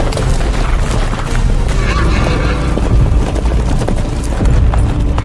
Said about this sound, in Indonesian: seisi desa Wakanda dikejutkan dengan kedatangan pasukan berkuda yang diyakini berasal dari kerajaan kota